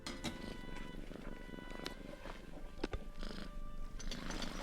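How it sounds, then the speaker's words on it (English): A kitten purrs in a Sherlock Holmes adventure game, a soft steady rumble running under game music and ambience with a few brief clicks and chimes. "The sound of the kitten purring is so delicious."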